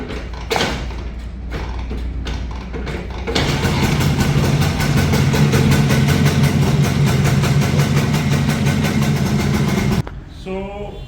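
A few rattling kicks give way to a 1991 Rajdoot motorcycle engine catching and running with a fast, even putter, then it abruptly stops near the end.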